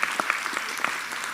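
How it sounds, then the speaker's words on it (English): An audience at a school board meeting gives a golf team a round of applause, a brief burst of clapping with a few distinct sharp claps standing out, heard without speech. "So a round of applause."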